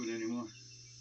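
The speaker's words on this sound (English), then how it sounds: "Boy, them cicadas are bad." Cicadas buzz in a steady, fairly faint drone beside a car at a lowrider show, with a brief louder patch before it settles.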